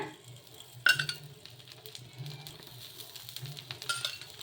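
Poha dosa made from flattened rice batter frying on a hot pan after oil is poured over it, with a soft, quiet sizzle and a single metallic clink of a utensil.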